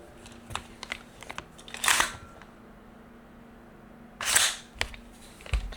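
A handgun being handled during a safety check, with two sharp metallic clacks of the slide racking and a few lighter clicks, close and loud against a quiet room.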